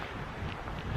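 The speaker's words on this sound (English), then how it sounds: "it's quite windy up here" Wind gusting on a mountainside in the Black Mountains at a wild camp, a low, steady rumble of buffeting air against the microphone, fairly faint and continuous.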